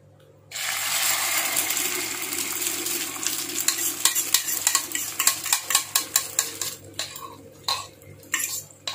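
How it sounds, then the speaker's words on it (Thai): Loud sizzle as beaten egg hits hot oil in a pan for a Thai omelette, a sudden burst of frying that continues while a utensil scrapes and clinks rhythmically against the pan. "เราก็จะใส่ไข่เจียวลงไป"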